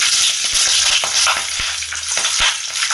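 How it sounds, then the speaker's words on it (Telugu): Chana dal, split chickpeas, frying in oil in a pan for a village-style lemon rice, a steady loud crackling sizzle close up with occasional stirring scrapes and no voices. "శనగపప్పు వేగిన విషయం"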